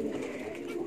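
Female jetmatic gambir pigeon cooing softly, a low murmuring coo that holds steady through a brief moment, close by and fairly quiet with no talk over it.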